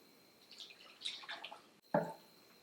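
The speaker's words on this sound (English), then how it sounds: "Once it's chilled a little, you're going to just pour it on your meat." Chilled carne asada marinade pours and drips onto meat in a bag, a soft trickle of splashy liquid followed by a brief heavier splash, quiet and close.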